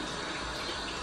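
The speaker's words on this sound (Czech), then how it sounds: "Tady tohle spláchnu vodou." Running water splashes steadily from a tap into a sink during a morning skincare routine, a continuous close wash of water rinsing cleanser from a face, with no talking.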